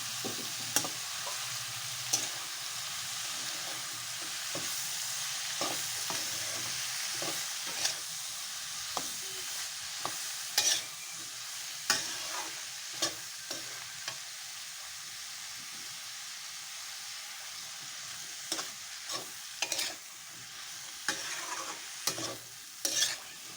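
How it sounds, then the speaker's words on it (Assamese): Taro pieces are stirred through spices frying in a pan for a fish curry: a constant soft sizzle broken by repeated sharp scrapes of a spoon, close by and with no talking. "এতিয়া ইয়াত মই কচুখিনি দি দিম। এতিয়া এইখিনি মই ভালকৈ লৰাই দিম।"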